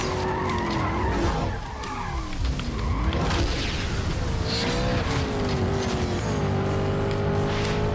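A BMW races in Need for Speed Undercover on PSP, its engine whining steadily with loud, continuous tire squeal and skidding that rise and fall with the car's speed.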